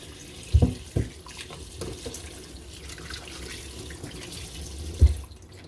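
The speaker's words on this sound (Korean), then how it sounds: "좀 씻어가지고 물에다 푹 담가서 흐르는 물에 담가서" Tap water runs steadily over beef short ribs being rinsed in a sink, with a few louder splashes and knocks as the meat is handled, heard close and alone.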